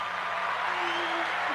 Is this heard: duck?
no